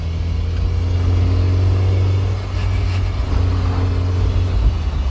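Mazda MX-5 track car on the move, its engine a loud, steady low drone with a continuous rumble of road and wind noise throughout, no talking.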